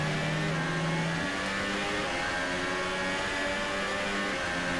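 Formula 1 cars in the F1 2018 video game howl down the main straight of the Austrian Grand Prix circuit, a dense, steady wall of high-revving engine tone with pitch shifting slightly as the pack runs on, no voices over it.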